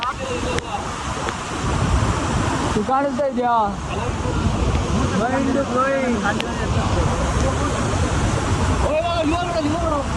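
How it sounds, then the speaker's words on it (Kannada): A forest waterfall with water falling from a great height roars steadily in the distance, mixed with wind buffeting the microphone, while people talk intermittently over it. "ಅಷ್ಟು ಹೈಟಿಂದ ಬೀಳ್ತೈತೆ ಇರೋದು ಈ ತರ ನೀರ್ ಬಿಡ ಹೊಡ್ತಕ್ಕೆ"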